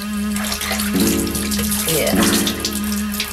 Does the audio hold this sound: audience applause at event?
no